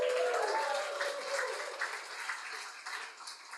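An audience at a data science and web development bootcamp demo day claps and cheers, loud at first and then tapering into scattered applause.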